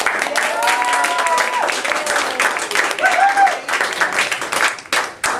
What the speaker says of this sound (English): Can we all take a moment and give Scott a round of applause for his